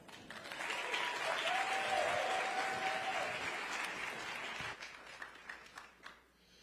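A large audience at a UNCF presidents' town hall event claps steadily for several seconds, then the applause thins out into scattered claps and fades.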